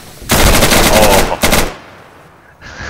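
Gunfire in the video game Insurgency comes as a loud burst of rapid automatic fire. A second short burst follows, then the sound tails off into quieter ambience.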